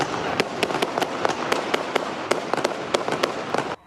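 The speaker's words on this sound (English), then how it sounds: "right before the sound of multiple gunshots ring out." A rapid, irregular string of sharp gunshots in a shootout in Little Italy, a dozen or more cracking close together over a few seconds before stopping abruptly.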